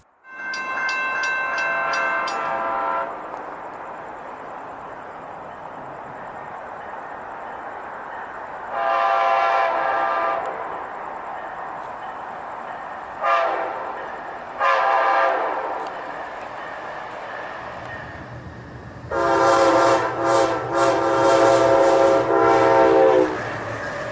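A passenger train rumbles past while its horn sounds in several loud blasts, some long and some short, the last ones a rapid series.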